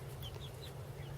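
Chickens cluck softly in a chicken run, a few faint, quiet clucks over a low background hum, with no talk.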